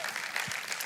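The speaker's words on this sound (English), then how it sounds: "Yeah, you can cheer for that." A church congregation applauds and cheers for its lead pastor, a brief burst of clapping with voices mixed in.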